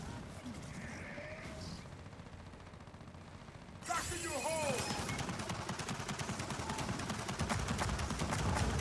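Turret machine gun fire in the video game Gears of War 4 starts abruptly partway through as a loud, dense, rapid stream of shots, with quieter game ambience and faint speech before it.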